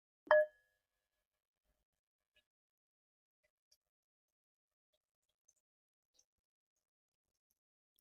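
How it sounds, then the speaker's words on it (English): A single meditation bell strike rings out clearly, then fades quickly into near silence with only faint tiny clicks afterward. "We'll start with the sound of a bell."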